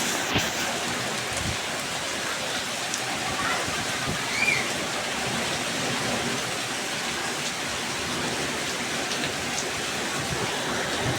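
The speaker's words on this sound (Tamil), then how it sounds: "மழை கொட்டுது" Heavy rain pouring down steadily in Kanchipuram, a dense unbroken hiss of drops drumming on surfaces for the whole stretch, with faint voices now and then beneath it.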